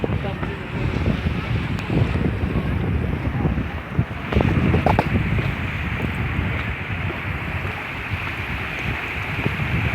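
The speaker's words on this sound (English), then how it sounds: "the water's really flowing over that flange there" Water pours steadily over a flange in a canal-side waterfall at an outdoor shopping complex in Portsmouth, a continuous broadband rush blended with wind buffeting the microphone, with brief handling bumps partway through.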